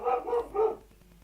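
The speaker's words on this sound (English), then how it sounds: "that's the dog." A dog barks three times in quick succession, fairly close and clear, then falls quiet.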